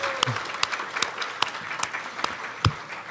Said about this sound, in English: let's just do one big cheer for all these graduating seniors.